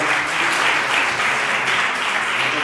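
An audience at an art history lecture applauds continuously, a dense, even patter of many hands clapping at moderate loudness with no voices over it.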